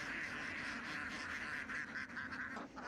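A flock of ducks roams through rice fields, their quacks and honks overlapping in a continuous, busy chorus at moderate distance.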